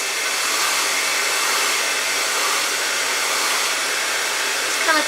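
A hair dryer blows hot air onto hair to tame bed head, a steady loud broadband whoosh running unbroken throughout.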